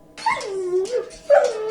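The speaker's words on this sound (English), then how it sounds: "A cocker spaniel whined" A cocker spaniel whines in two short, rising-and-falling whimpers, close and fairly loud, with no voices around it.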